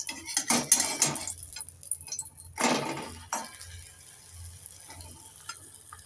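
Buttered egg toast is flipped in a frying pan: a few sharp clattering scrapes of the utensil against the pan, then quieter scattered clinks over a faint sizzle, with no voices.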